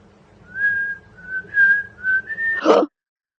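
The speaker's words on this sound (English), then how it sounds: "Let me whistle it to you." A person whistles a short melodic tune, clear sustained notes in several phrases, close and fairly loud, ending in a brief breathy burst.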